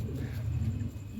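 A slate-grey Kamgar breed pigeon gives low, soft cooing, close by and fairly quiet, over faint background noise.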